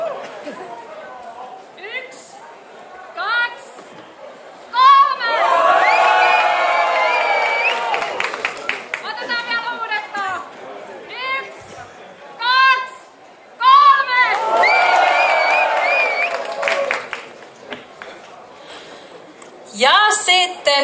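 At a Miss Twang & Twist 2022 rockabilly contest in Nastola, a crowd breaks into two long, loud waves of cheering, whistling and shouting, with shorter bursts between them and an announcer talking over the quieter stretches.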